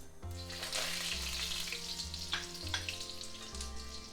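Cumin seeds and curry leaves sizzle in hot oil in a pan, a soft continuous crackle with faint stirring, low in level and alone, with a steady hum beneath.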